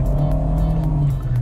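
A Fiat Argo with an automatic CVT transmission accelerates, its engine giving a steady, droning hum that holds an even pitch from inside the car.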